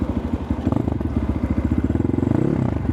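A Geon GNS 300 Motard motorcycle engine idles while warming up, a steady loud chugging pulse with rapid even firing beats and a slight rise and fall in pace, close by and alone.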